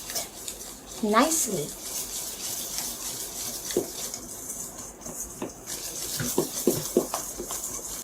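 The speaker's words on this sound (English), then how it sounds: "mix this with the flour, okay? And then mix it" Pineapple cake batter being mixed with flour in a bowl, a utensil scraping and clinking against the bowl in uneven strokes, with someone talking over it.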